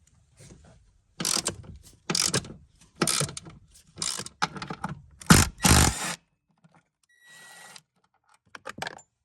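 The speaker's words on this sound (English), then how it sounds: "Just crack it with the ratchet." A ratchet cracks loose a T50 seat belt bolt in a BA/BF Ford Falcon XR6, giving a run of loud, close clicking bursts in quick succession, then a few fainter clicks after a pause; no talking.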